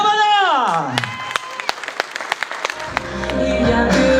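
Live audience on a French variety show clapping and cheering for a singer, a falling musical sweep giving way to scattered, building applause with whoops, then music starting underneath toward the end.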